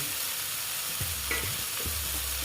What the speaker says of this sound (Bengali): দিয়ে এটা আমি ভালো মতন আবার কষিয়ে নেব